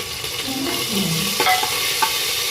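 Ginger-garlic paste fries in a pan for dal khichdi, giving a continuous sizzle broken by a few sharp scrapes and clinks as it is stirred.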